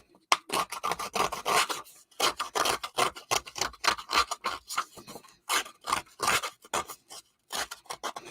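A distress tool scrapes along a paper edge in quick, repeated rasping strokes, close and fairly loud, coming in short bursts separated by brief pauses, with no talking.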